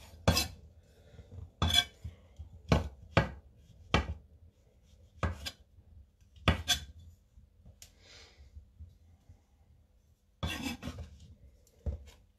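A knife slices through mushrooms on a chopping board, making a dozen or so crisp, close taps at an uneven pace with quiet pauses between cuts.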